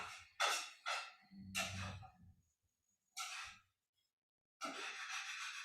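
Deep breaths drawn in during a hatha yoga breathwork session, close and airy, a series of separate inhales and exhales with quiet pauses between them and no talking.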